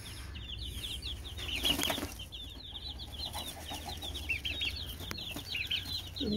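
Young chicks peep in a steady high chatter, with bursts of wing flapping and occasional clucks mixed in, all close by in a small homestead coop.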